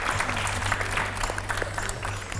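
An audience at a televised children's quiz show applauds continuously, a dense steady clapping of a crowd for a correct answer.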